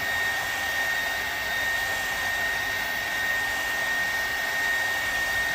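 A heat gun blows on a car emblem, a steady, close, even whir with a constant high whine and no breaks or talking.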